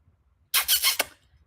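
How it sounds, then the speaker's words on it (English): A dog grabs her squeaky toy and squeezes it in three or four quick, shrill squeaks within about half a second, loud and close against a quiet room. "she just went and grabbed her squeaky toy."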